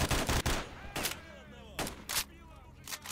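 Gun firing in S.T.A.L.K.E.R.: Shadow of Chernobyl, several sharp loud bursts in quick clusters with ringing tails and short gaps between them, with a voice briefly heard.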